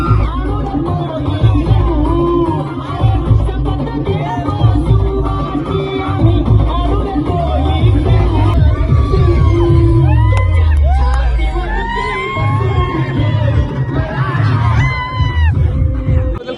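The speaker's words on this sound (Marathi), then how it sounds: "उपस्थित मराठा बांधवांनी डीजेच्या तालावर थिरकत गुलाल उडवत जल्लोष साजरा केला" Maratha community crowd celebrating in Dharashiv, cheering, whooping and shouting over loud, steady DJ music with a pounding beat, the dense crowd noise lasting throughout.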